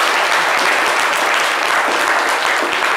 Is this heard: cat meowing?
no